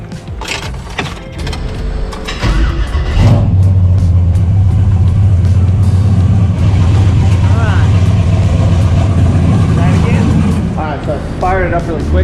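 Turbocharged Chevy Chevelle engine cranking and catching, then settling into a loud, steady rumbling idle after a few clunks and rattles, with someone talking near the end.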